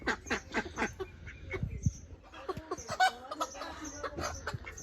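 Chickens clucking and a rooster-like fowl calling in a village yard, a busy run of irregular clucks and squawks at close to moderate distance, fairly faint over background noise.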